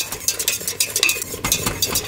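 A metal whisk clatters and scrapes against a pot on the stove while stirring thickening pastry cream for a fruit tart, in quick, rhythmic strokes heard close up.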